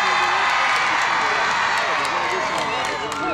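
A large outdoor high school commencement crowd cheering and whooping, with clapping and shouts blending into a dense, continuous roar that holds steady throughout.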